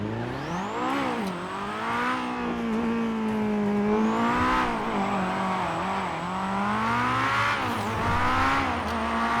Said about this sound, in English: that's a real Honda exhaust note